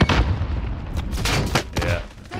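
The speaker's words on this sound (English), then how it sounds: "Taking shots here. I mean two sniper shots." Gunfire in the Warzone video game, loud sharp reports in quick bursts with dense game noise between them, the shots close and prominent.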